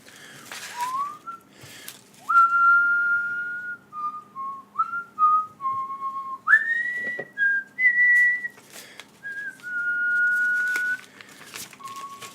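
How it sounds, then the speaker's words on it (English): Someone whistles a tune alone, a series of clear, sustained notes stepping up and down over about twelve seconds, close and fairly soft, with faint rustling in the background. "I gotta listen to it while I whistle."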